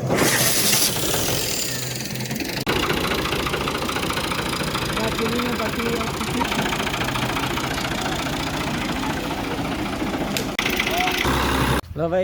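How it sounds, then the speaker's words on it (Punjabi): A tractor engine idles steadily before plowing a field, a loud continuous diesel chug with knocking vibration running throughout, with people talking nearby. "ਟਰੈਕਟਰ ਕੱਢ ਲਿਆ ਜੇ ਜ਼ਮੀਨ ਵਾਹਣ ਲੱਗੇ ਨੇ"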